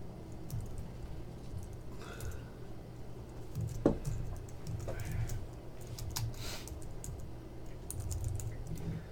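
Steady typing on a computer keyboard, faint rapid key clicks in an irregular patter over a quiet background, close by, with no talk.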